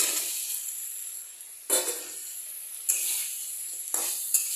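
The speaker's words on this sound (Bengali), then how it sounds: "এখন এটার মধ্যে আমি দিয়ে দেবো আলু আর কাঁচকলা ভাজাটা" Fried potato and green banana pieces are tipped into cooked masala in a pan and stirred, bringing sudden bursts of loud sizzling with stirring scrapes that fade back to a softer hiss between them.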